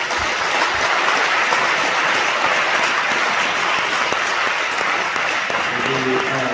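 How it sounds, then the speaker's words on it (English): A crowd claps steadily and loudly throughout, a dense, sustained round of applause filling the room for candidates at a candidate forum. "let's give a round of applause for all the candidates"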